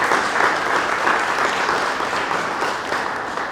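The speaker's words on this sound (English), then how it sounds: "So could we give the mayor a big round of applause?" Audience applause for the mayor at a mayoral candidate forum: a steady, dense wash of many hands clapping that holds at an even level throughout, with no talk over it.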